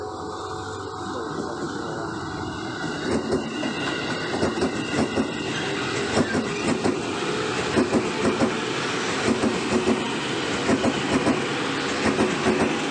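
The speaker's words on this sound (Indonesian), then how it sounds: "KRL Komuter Line tujuan akhir stasiun Depok sudah melintas di percabangan stasiun Manggarai ini" A KRL Commuter Line electric train bound for Depok rolls past close by over the junction at Manggarai station, wheels clattering in a steady clickety-clack rhythm over the rails, with a rumbling electric hum throughout.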